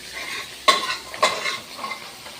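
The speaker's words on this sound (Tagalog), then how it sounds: "Niluto yung kanin sa mantika, guys." Cooked rice stir-frying in oil for fried rice, with two sharp spatula scrapes against the pan over a soft ongoing sizzle, close and clear.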